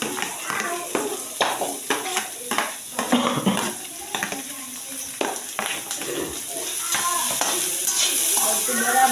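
Chopped onion hitting hot oil in a pan while cooking matar paneer, a crackling sizzle with spoon stirring and scraping against the pan, close and continuous, with a voice talking over it.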